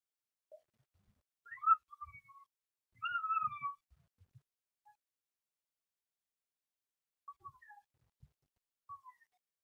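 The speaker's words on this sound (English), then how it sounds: "Sorry if you can hear a little bit of screaming in the background." A young child, about two years old, shrieks and squeals faintly in the background of a quiet indoor room, short high-pitched bursts coming and going with long silent gaps.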